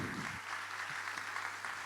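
An audience at the opening of a book fair applauding as a speaker takes the stage, a soft, steady wash of clapping heard from a distance.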